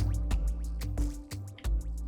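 Water dripping and dribbling into graphite putty, a close series of small wet plinks and squishes at an uneven rhythm over a low steady background, with no one speaking.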